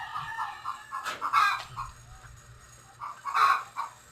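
A white gold rooster clucks in close, choppy bursts and lets out a couple of loud, strained crows.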